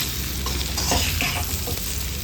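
Chilli pork with black masala fries in a pan, giving a continuous close, loud sizzle with faint stirring and scraping over a low rumble.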